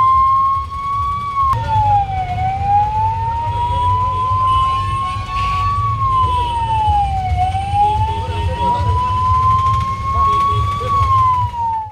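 Ambulance siren wailing continuously in a traffic jam on the way to a district hospital, its rising and falling tone steady and loud throughout over a low rumble of idling road traffic.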